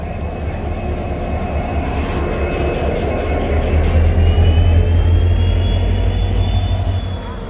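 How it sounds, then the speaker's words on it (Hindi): A WDP4D diesel locomotive engine from Kalyan running at a station, a loud steady low rumble and drone that swells slightly midway, with faint whining tones above and no talk. "इंजन आ चुका है WDP4D जो कल्याण से बिलोंग करता है।"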